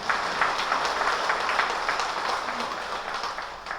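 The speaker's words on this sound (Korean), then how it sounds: "없어도 박수 한번." Applause from a church congregation at a Catholic Mass, a steady even wash of clapping that holds for several seconds at moderate level with no talk over it.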